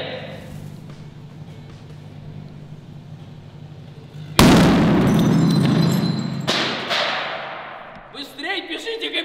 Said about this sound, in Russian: Взорвется ли петарда в микроволновке или нет?